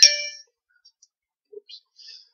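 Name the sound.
phone text message notification chime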